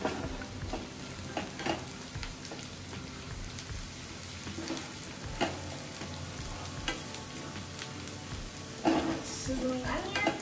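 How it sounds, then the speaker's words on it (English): Onions sizzle steadily in a hot pan with a dense, crackling hiss and occasional stirring scrapes, close and continuous throughout. "Sizzling onions."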